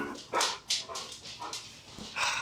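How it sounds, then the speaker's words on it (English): A pet dog gives a series of short whimpers and yips, several quick bursts close by and fairly soft, with brief pauses between them. "My dog."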